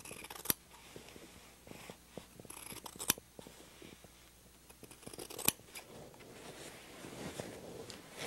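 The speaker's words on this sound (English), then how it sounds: "Keep cutting and turning your cylinder as you cut" Scissors cut fabric strips for continuous bias tape, producing faint, irregular snips and light rustling of cloth over several seconds, quiet and close, with no speech.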